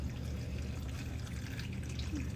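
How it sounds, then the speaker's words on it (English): Steady tap water running and pouring into a jar, a continuous broadband wash with faint trickling, close by and fairly quiet, with no voices. "Now I'm going to fill the jar up with just tap water."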